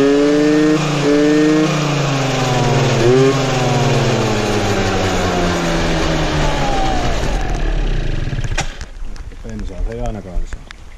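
A motorcycle engine, just fitted in a BWS project bike, revs loudly and unevenly through rising and falling pitches on a first start, then cuts out to rough sputters and clanks.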